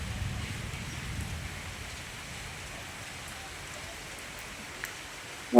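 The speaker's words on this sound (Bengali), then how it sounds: "হালকা হালকা গুড়ি গুড়ি বৃষ্টি পড়ছে" Light drizzling rain falls outdoors under dark clouds, a faint, steady soft hiss with no other distinct sounds.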